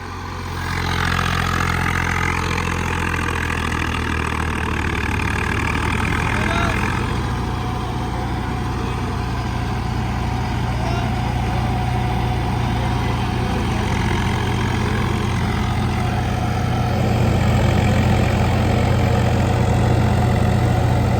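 A tractor engine idles with a steady low rumble, loud and close, running continuously throughout.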